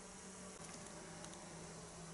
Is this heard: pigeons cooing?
no